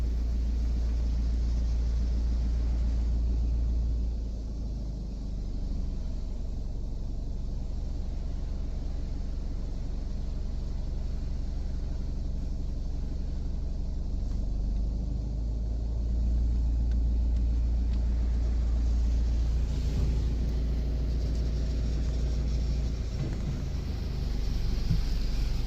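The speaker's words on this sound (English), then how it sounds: "My first car wash of the day." An automatic Mr Magic Automagic car wash at Suds City in Albury, NSW runs with a steady, loud low rumble and a broad wash of spraying noise that holds throughout, with no voices.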